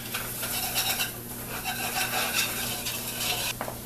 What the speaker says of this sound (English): we just want to use the tines of the whisk to break this up and get it started melting